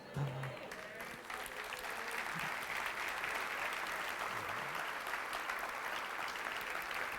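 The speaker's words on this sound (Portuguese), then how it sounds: "Você pode aplaudir mais forte ainda ou não?" A church congregation applauds steadily, a dense wash of clapping heard throughout, with a few faint voices beneath it early on.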